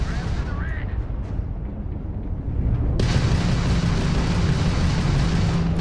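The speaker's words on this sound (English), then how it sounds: "that's a Crimson Fleet ship bringing its weapons to bear" Weapons fire from a Crimson Fleet ship during space combat in Starfield, a dense roaring barrage of booms and blasts that swells louder halfway through and continues steadily without pause.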